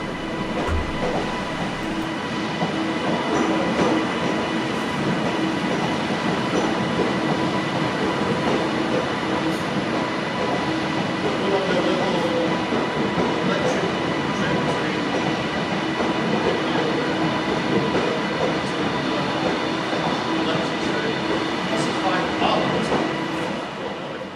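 Black Five 45212 steam locomotive working a train on the Cumbrian Coast: a steady, loud rolling rumble with faint rhythmic clatter of wheels on rail, continuous for the whole stretch.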